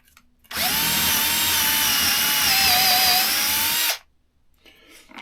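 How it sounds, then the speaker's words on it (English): A power drill bores into a soft cedar board in one loud, close, steady whine of about three seconds at high speed, then stops suddenly. "Because this is cedar, it's nice and soft. I'm going to get the drill up fast and press hard."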